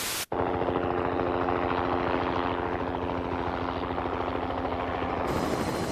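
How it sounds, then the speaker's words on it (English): A helicopter flies close by, its rotor giving a loud, steady beating thrum with engine whine that holds evenly for about five seconds before cutting off abruptly, with no talk over it. "Helicopter rotors work just like airplane wings."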